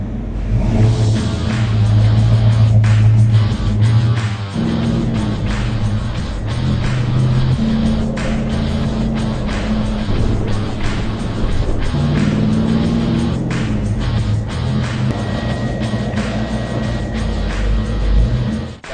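A red convertible car with the top down drives around the block, heard as a loud, steady engine and road roar with rising and falling revs and gear changes, close throughout.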